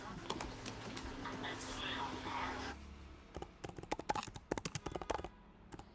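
Someone types the word Postman on a computer keyboard, a quick run of close, crisp key clicks that follows a stretch of murmured voices and room noise.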